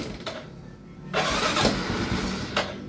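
A Kawasaki Fury 125 motorcycle engine that had been submerged in a flood cranks and catches around the one-second mark, then runs with a rough, loud idle for a couple of seconds before a brief revving burst.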